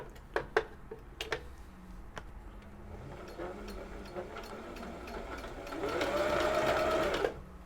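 An old Husqvarna sewing machine stitches at close range, a few sharp clicks giving way to a rapid mechanical whir that grows louder toward the end, with no talking.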